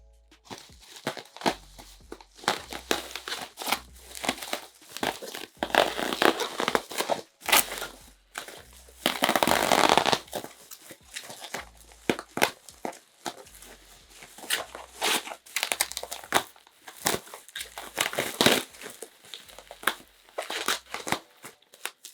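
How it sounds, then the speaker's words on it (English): Bubble wrap packaging around a blind-bag skateboard is cut and pulled apart, giving close, sharp crinkling, snapping and rustling in irregular bursts with brief pauses. "So it's fully wrapped in bubble wrap. Do I have to cut that off as well?"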